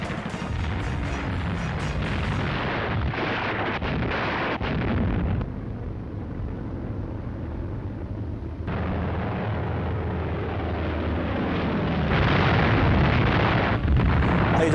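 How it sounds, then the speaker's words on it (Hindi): Russian artillery fire in an attack on residential areas, heard as sustained heavy rumbling blasts and booming roars, loud and continuous, with a quieter lull midway before the explosions swell again. "टारगेट से अलग फायर हुआ रूस का बारूदी गोला।"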